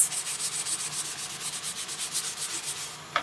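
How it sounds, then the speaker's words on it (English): A cloth soaked in rubbing alcohol is rubbed back and forth over a hard craft surface, giving a fast, even series of close, brushy swipes, about seven per second, with no talking. "I'm just taking some rubbing alcohol to clean off the surface"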